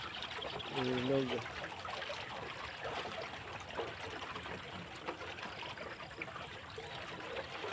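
A river in rural Nueva Ecija flows with a steady, soft rushing hiss, and a brief voice sounds near the start.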